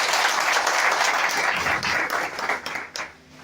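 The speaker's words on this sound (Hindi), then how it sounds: "तो हम चाहेंगे कि अपने देश के नाम पे एक बार जोरदार ताली मारिए" An audience bursts into strong applause at a product seminar, a dense wash of clapping that holds steady, then thins and fades out over the last second.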